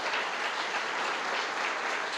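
A church congregation applauding during an evening service, dense sustained clapping from many hands that fills the space evenly from start to finish, with no voices over it.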